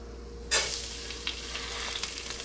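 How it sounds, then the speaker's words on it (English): Onions and rice sizzle in a pan on medium heat while the rice toasts for mushroom risotto; a loud burst of frying starts abruptly and continues steadily with small crackles and stirring scrapes. "We're gonna start by toasting our rice."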